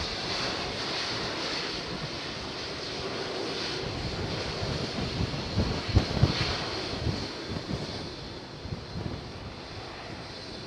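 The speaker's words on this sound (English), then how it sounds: "Nice spool down like that." A CF6 jet engine spools down at London Heathrow in wet, windy weather, a broad, steady roar with gusty wind noise over it that swells briefly near the middle and then eases off.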